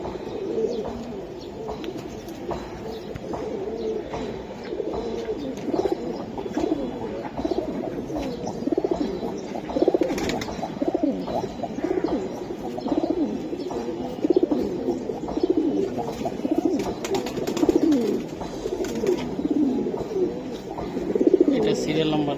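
Giribaz pigeons coo steadily and close by, a continuous layered murmur of calls running throughout with a voice talking over it.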